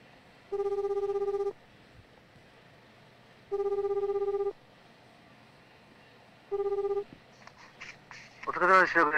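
A telephone rings three times in even, sustained bursts with pauses between, moderately loud, before a voice begins speaking at the end.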